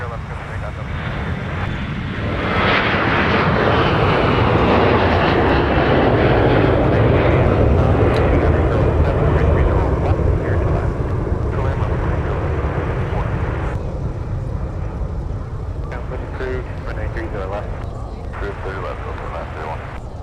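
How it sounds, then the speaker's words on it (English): A Delta jet takes off from runway 30 left at Minneapolis–St. Paul, its engine roar swelling to a loud, sustained rumble and slowly fading as it climbs away, with a voice talking over it. "Delta 756 getting airborne for San Francisco"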